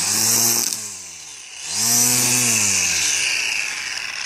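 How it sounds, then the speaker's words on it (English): A Makita 18-volt cordless grass trimmer cuts grass close by, its motor whining up, dipping briefly, then revving again as the line spins through growth, with no talk. "For an 18-volt trimmer, it's got a lot of power."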